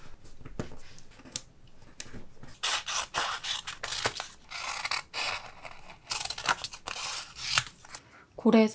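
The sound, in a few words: cutting white borders around stickers with scissors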